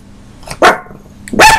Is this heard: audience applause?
no